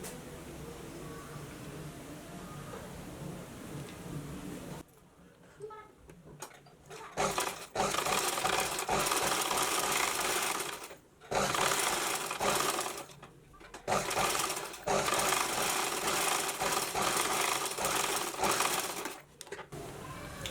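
A sewing machine stitches the side seams of a patiala pant in loud close bursts of rapid whirring, stopping briefly between runs, with someone talking quietly before the stitching begins.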